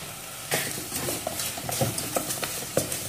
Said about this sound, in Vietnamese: Xào qua cái phần xương cho nó ngấm gia vị.